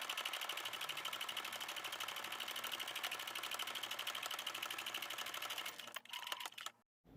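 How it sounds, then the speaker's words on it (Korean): A sewing machine runs continuously, stitching fabric pieces for a six-panel reversible bucket hat, a fast, even mechanical whir with a steady needle rhythm that stops abruptly near the end; quiet and close. "박음질 시작하겠습니다."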